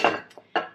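Metal spoon scraping and clinking against a pot while scooping cooked onions onto a plate, three short close clatters with quiet gaps between.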